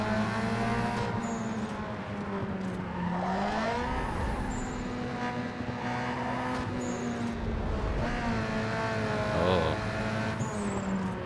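Race car engines in Need for Speed Underground 2 roar continuously and loudly, with rising and falling pitch sweeps as the cars shift and accelerate, a steady near engine drone throughout.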